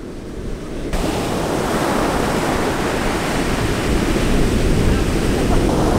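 Big ocean waves crash and roll onto a windy shore, a loud continuous roar of surf with heavy wind noise buffeting the microphone, swelling slightly louder toward the end.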